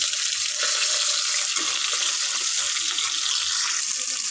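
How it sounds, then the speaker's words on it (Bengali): Fish fries loudly in a pan of hot oil, a dense, even, close sizzle that holds without pause throughout. "তো তোমরা দেখতেই পাচ্ছ এখানে আমার মাছ ভাজা চলছে।"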